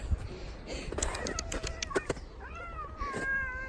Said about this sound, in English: Did she meow?